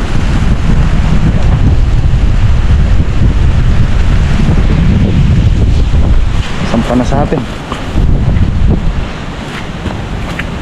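Wind-driven waves of a flooding river during Super Typhoon Uwan, a loud, steady roar of surging water and gusts that eases slightly toward the end, with a person speaking briefly partway through.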